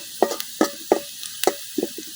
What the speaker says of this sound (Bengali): এখন পেঁয়াজ রসুনটা কিছুক্ষণ ভাজা নিলাম।